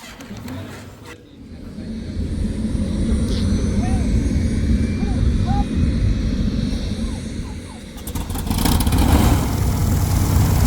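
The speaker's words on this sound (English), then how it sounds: "This airplane sounds and runs so stinking good, it's ridiculous." A Piper Aztec propeller airplane engine drones steadily and loudly at close range, with the roar swelling toward the end.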